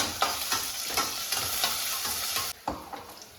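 Greens and peanuts sautéing in a pan, with a steady sizzle broken by repeated scraping stirs of a spoon against the metal, close and fairly loud, with a brief pause near the end.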